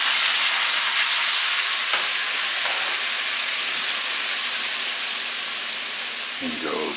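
Stir fry sizzles loudly and steadily in a hot pan after a splash of soy sauce, a dense continuous hiss with faint stirring scrapes near the end.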